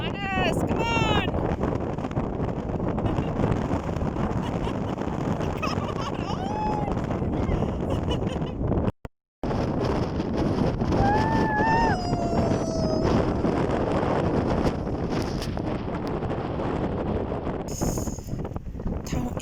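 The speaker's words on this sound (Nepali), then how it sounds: "हावा बेसमारी चलेको ठाउँ जस्तै छ।" Strong wind at Surprise View in the Peak District roars steadily into the microphone as a loud, constant buffeting rush, with a few faint bird calls and a brief dropout partway through.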